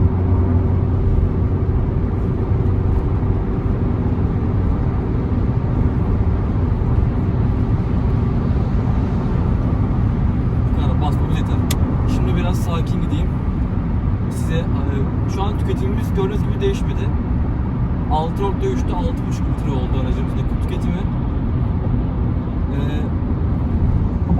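A SEAT Ibiza 1.2 TSI accelerates with a steady engine drone and road rumble heard from inside the cabin, continuous and fairly loud, as someone talks over it.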